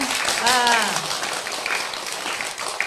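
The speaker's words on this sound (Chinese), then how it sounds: "是莲花童子的鼓掌" An audience of devotees at a religious talk breaks into a short round of applause that blends with a voice speaking and a steady room hubbub.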